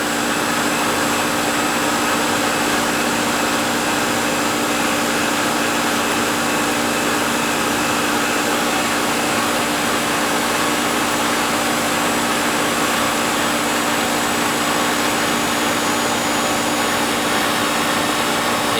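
Goodman R22 air conditioning unit running as a constant, loud, steady mechanical hum and fan whoosh with a tonal drone, unchanging throughout with no voices.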